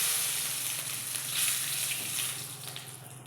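Four dried red chillies fry in hot oil with a continuous, even sizzling hiss, close and moderately loud with no voices.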